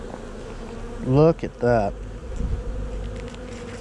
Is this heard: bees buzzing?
yes